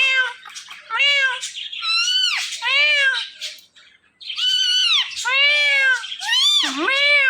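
A pet parrot imitates a cat's meow, repeating high, whining meow calls in quick succession, loud and close, with a short pause in the middle.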